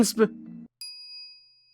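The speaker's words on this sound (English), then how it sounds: "Phone wave, name TBA, rings." Phone wave gadget in the visual novel Steins;Gate giving a short bright ring, a single clear chime that trails off into a thin sustained tone right after a burst of speech.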